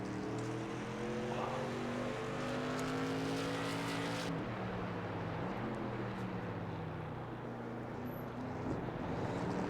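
Race cars lap Circuit of the Americas in a modded racing video game. Several engines drone loud and close, their pitches rising and falling together through gear shifts and passes. One car fades out about halfway as another carries on.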